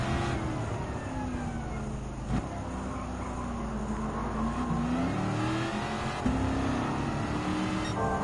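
Racing car engine in the video game Gran Turismo 7, with a Dodge Viper GTS in the race, a steady droning roar that rises and falls as it shifts gears, with a few brief clicks.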